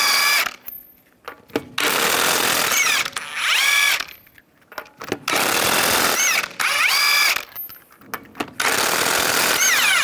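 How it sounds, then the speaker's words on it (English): An impact gun with a 19 mm socket rattles lug nuts off a 2011-2019 Ford Explorer wheel, loud close bursts of ratcheting hammering separated by brief pauses, each burst winding down with a whining spin. "Now we're going to remove the wheel using a 19 millimeter socket."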